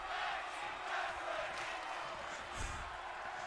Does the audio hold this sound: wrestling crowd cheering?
yes